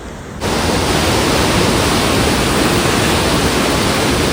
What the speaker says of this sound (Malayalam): നല്ല ഒഴുക്കുണ്ട് കേട്ടോ, പുഴക്ക് നല്ല ഒഴുക്കുണ്ട്